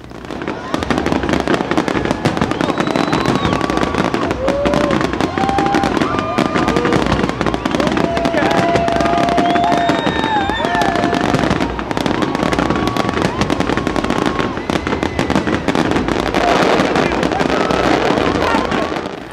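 New Year fireworks bursting over the Montreal sky, a dense continuous barrage of loud booms, crackles and whistling rockets, with crowd voices faintly mixed in throughout.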